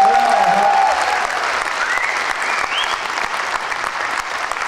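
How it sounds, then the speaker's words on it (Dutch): An audience at a village presentation breaks into sustained applause, a dense wash of clapping with a few brief whoops and cheers rising above it, steady from start to finish. "Nou, nog een keer echt applaus."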